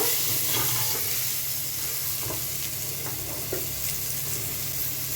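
Pointed gourd (potol) fries in oil in a pan, with a continuous loud sizzle and hiss up close. Light scraping and stirring clicks come through as the pieces are lifted out.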